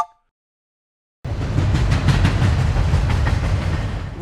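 A train rolls past for a few seconds after a brief silence, a loud, steady rumble with rhythmic clickety-clack from the wheels on the rails.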